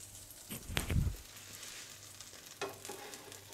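Chicken and cheese quesadilla between two tortillas frying in a pan until golden brown, a steady low sizzle with a louder crackling flare early on and another softer swell near the end.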